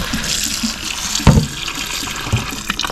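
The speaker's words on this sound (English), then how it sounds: "So just water in a pot." Tap water runs into a cooking pot for boiling ackee, a continuous splashing flow with a couple of sharper clunks of the pot, close and moderately loud, no talking.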